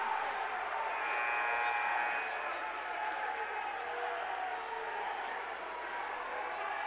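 A crowd at a men's college basketball game, Greenville at Eureka, cheers and applauds in a broad, sustained roar that fills the gym. It swells briefly and then eases slightly.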